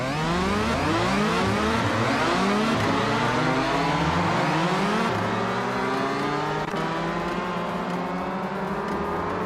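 Race cars accelerating in a racing video game, several engines revving loudly and continuously, their pitches climbing and overlapping as the pack pulls away together.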